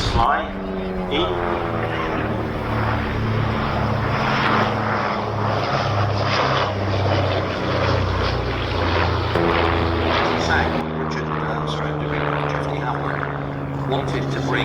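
A vintage propeller aircraft flies at the Shuttleworth airshow, its engine drone loud and sustained, with wavering propeller tones as it passes. Throughout, a commentator talks over the aircraft noise.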